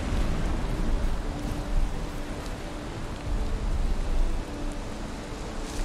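Steady rainfall in the Viking survival game Valheim, a dense, continuous hiss of falling rain that holds level throughout with slight swells and no voices.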